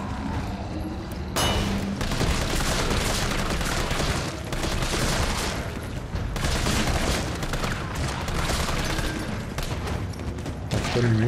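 Dense, sustained bursts of gunfire in Resident Evil 3, rapid and overlapping, with occasional heavier booms throughout.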